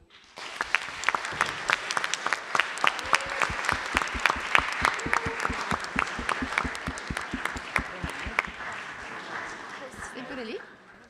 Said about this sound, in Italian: Direi che gli oratori si meritano un bel applauso.